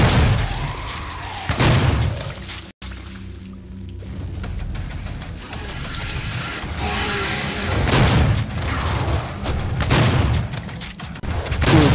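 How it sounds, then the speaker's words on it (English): A rapid-fire cannon blasting in the video game Doom, a dense sustained barrage of booming shots with mechanical clatter, loud and continuous across the whole span. "Oh, that shoots 25 bullets."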